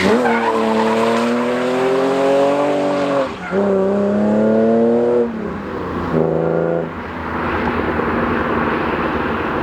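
A BMW's tires squeal loudly and close by while drifting, with several long, sustained skids that rise and fall in pitch, each separated by a short break.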